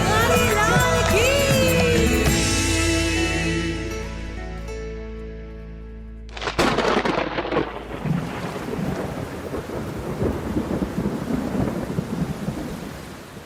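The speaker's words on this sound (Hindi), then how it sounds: "मेघ बरस पड़े और ब्रजभूमि पर जल प्रलय का संकट छा गया।" A stage-play thunderstorm effect: music fades into a sudden loud thunder crack, followed by heavy rain pouring and rolling rumbles, with a voice speaking through it.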